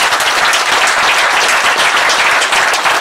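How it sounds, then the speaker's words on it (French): A crowd of listeners claps loudly and continuously for the guest speaker Philippe Pascot at a public talk, a dense, even wash of applause close by with no pauses. "merci de l'applaudir très fort"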